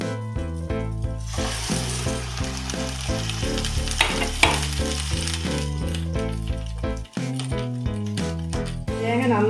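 Cooked chickpeas stirred into a sizzling onion mixture for Kerala-style kadala curry, with steady loud frying and rhythmic spoon scrapes against the pan, close up under a continuous hum.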